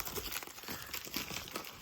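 Close crinkling and tearing of plastic packaging being opened by hand without scissors, a steady rustle with small bursts, no voices.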